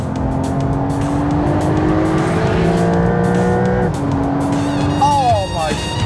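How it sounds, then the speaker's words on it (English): A Porsche 911 rear-wheel-drive twin-turbo flat-six sports car engine drones and revs loudly up close, its pitch climbing and shifting through gears, with tires squealing near the end. "Listen to this engine, listen."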